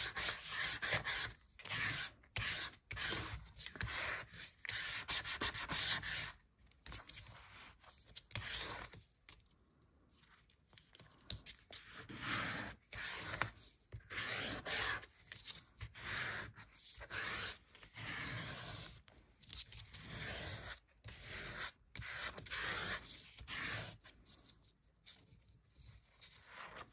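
Squeegee dragged firmly across a gelli printing plate while making abstract mixed-media prints with stencils, a steady run of rubbing, scraping strokes that repeats close up with brief pauses between passes.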